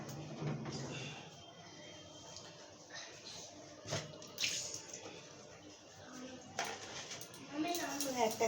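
Bowls and dishes being scrubbed and washed at a sink, with running water, clinks of crockery and cutlery, and someone talking over the washing throughout.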